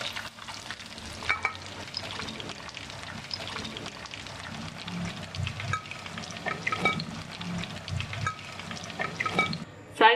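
Chicken cheese sticks sizzle and bubble in hot oil, with scattered clinks and splashes as pieces are lifted out one at a time over the steady frying hiss.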